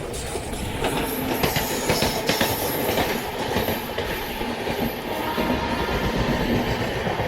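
The Surat to Mumbai Central 12922 Flying Ranee Express, hauled by a WAP-5 locomotive, rumbles along steadily, heard from inside the coach with continuous wheel clatter and rail noise throughout.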